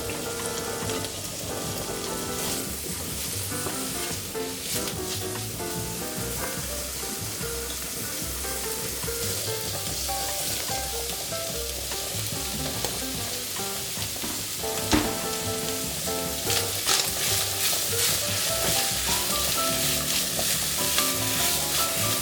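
Carrot and red pepper sizzle steadily in a frying pan, a continuous close crackle with occasional stirring scrapes, over soft background music.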